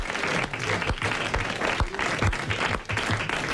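A studio audience claps for a guest on a French radio comedy panel show, a dense, even round of applause that holds steady for a few seconds with a few voices mixed in.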